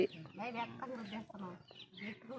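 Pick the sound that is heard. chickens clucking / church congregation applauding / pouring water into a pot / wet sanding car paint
chickens clucking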